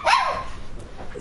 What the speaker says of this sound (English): my charming puppies are adding their input to the stream